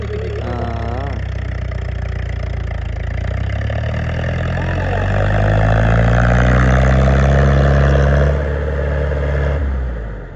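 An HMT 5911 tractor engine, one original and one fitted with a Sonalika engine, runs loudly nearby, its low drone rising in pitch as it revs up then settling back, with voices talking over it.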